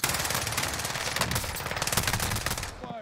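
Rapid automatic gunfire from Call of Duty Warzone on Rebirth Island, a dense unbroken burst of shots running loud and close for about three seconds, then cutting off abruptly.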